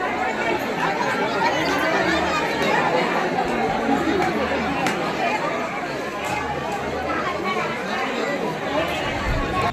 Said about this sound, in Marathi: ज्योतिबाला आलो आणि गर्दी बघा किती आहे. खूप गर्दी आहे.